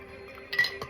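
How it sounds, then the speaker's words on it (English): Dark rosé wine strained into a new wine glass, a brief sharp glassy clink and light clatter near the end after quiet background. "I'm going to go ahead and strain it"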